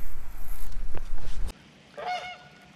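A goose near a lake spillway gives a loud, close honk, with rushing water and outdoor noise heard beforehand.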